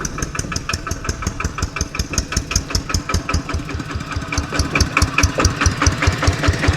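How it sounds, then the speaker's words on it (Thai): A loud, chugging tractor engine running close by, its rapid regular thumping pulses steady throughout with no talking. "นี่เบื้องนี่รถไถเพิ่นมานี่"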